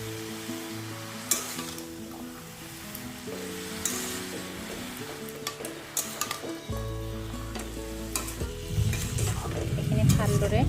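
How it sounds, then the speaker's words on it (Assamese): Jackfruit seeds frying in a pan as they are stirred, with clattering scrapes and ticks over a continuous sizzle, accompanied by steady background music that swells toward the end. "এতিয়া মই এইখিনি ভালদৰে লৰাই দিম।"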